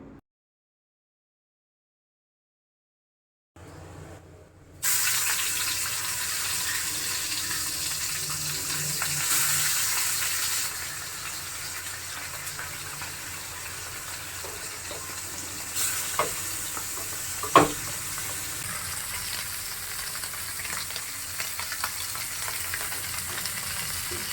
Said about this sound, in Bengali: দেন তেল গরম করে মাছগুলোকে ভেজে নিলাম।